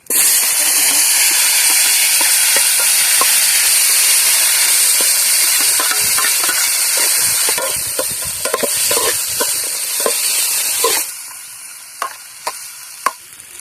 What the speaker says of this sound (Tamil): நம்ம சோம்பு, பட்டை, ஏலக்காய் இதெல்லாம் போட்டு வதக்கிடுவோம்